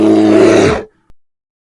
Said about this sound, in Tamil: பேர், கரடி